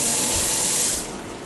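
Tap water runs steadily over oranges being washed in a kitchen sink, a close, continuous broadband hiss that eases slightly toward the end.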